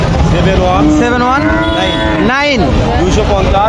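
Friesian calf at a busy rural cattle market lets out a loud, drawn-out moo, rising and falling over a couple of seconds, close by amid the crowd's dense background chatter.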